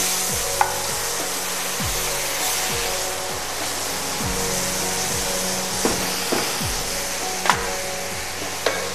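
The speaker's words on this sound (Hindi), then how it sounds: "और अब मसालों के साथ इस दाल को रोस्ट कर लेना है।" Masoor dal roasting with spices in a hot pan for a Kathiawadi dal, with a steady loud sizzle and a spoon stirring through it in repeated scrapes and knocks, close up with no talking.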